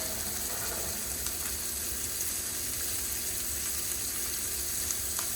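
Blackened fish for tacos frying in a pan of oil and butter, giving a steady, dense sizzle and crackle that continues without pause throughout.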